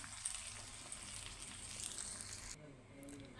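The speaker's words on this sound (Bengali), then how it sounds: "এখানে পেঁয়াজ কুচি আর রসুন কুচি আছে এটাকে বাদামি কালার করে বেরেস্তা বাজার শেষ আমি ঢেলে দিলাম" Browned chopped onion and garlic fried in oil are poured into a pot of nihari, giving a soft, steady sizzle that cuts off abruptly after a couple of seconds.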